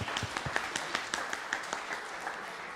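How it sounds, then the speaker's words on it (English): An audience at a finance seminar's inaugural function claps in a short round of applause, with scattered individual claps rather than a dense roar, moderately distant and fading toward the end, with no talking. "May I have a round of applause?"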